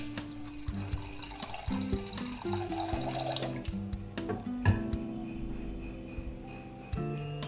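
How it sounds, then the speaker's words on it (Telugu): Milk being poured into a pot, a close running liquid stream with light splashes and drips, continuous at first and then tapering into intermittent trickles, with no talk. "ముందుగా అయితే పాలు పోసుకోవాలండి."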